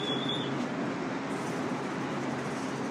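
A train rumbles past steadily with a broad, low mechanical roar, and a brief high squeal near the start.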